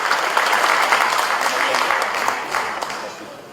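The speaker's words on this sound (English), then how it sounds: "Please give an applause for Mr. Anies Rashid Baswedan." An audience in Jakarta applauds Anies Rashid Baswedan as he comes up to speak, a full, sustained burst of crowd clapping that stays even and then eases off slightly at the end.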